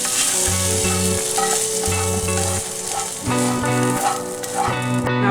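Pasta in white sauce sizzles loudly in a hot pan while a utensil stirs it in quick repeated strokes, scraping and clattering against the pan over a steady frying hiss, with no voices.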